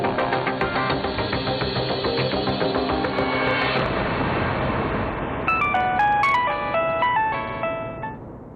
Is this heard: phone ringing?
yes